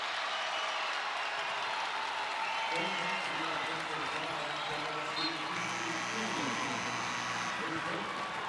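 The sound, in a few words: basketball crowd applauding and cheering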